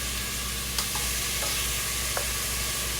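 Oxtail pieces go into a hot pressure cooker and sizzle loudly and steadily, with a few soft clunks as the meat lands in the pot. No one speaks.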